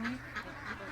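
Ducks quacking in a short series of nasal calls, moderately close but fairly quiet, with no talk.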